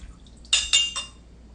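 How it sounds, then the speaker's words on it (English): A rye whiskey, sugar and bitters mixture for a Sazerac is poured into a glass in a few short liquid splashes and clinks lasting under a second, close and clear with no talk. "This is the rye, the sugar, and the bitters. Pour it into your glass."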